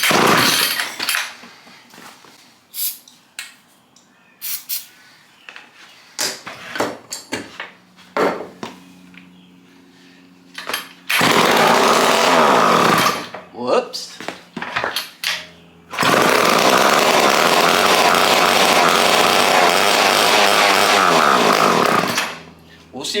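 A seized chainsaw, revived without new parts, is pulled over and sputters before catching on starting fluid, with short rough bursts and then two sustained loud running stretches of the two-stroke engine, close by, with some talking in between.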